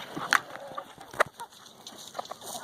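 Backyard chickens fed kale and banana peel scraps give a few soft, brief clucks and pecking sounds at close range, with quiet gaps between them.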